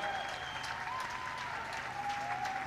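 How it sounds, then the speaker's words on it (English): At the Longines Royal International Horse Show, a crowd applauds as a horse and rider in a ridden championship go past. The clapping is steady and moderately distant, with faint voices and a few tonal whistles or calls mixed in. "You can hear the crowd once again as he goes past."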